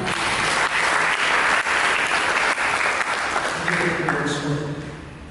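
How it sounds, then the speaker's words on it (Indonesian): A church congregation bursts into loud applause during a sermon, clapping hard and steady before the sound thins and fades near the end, with a voice emerging faintly underneath. "Berikan tepuk tangan"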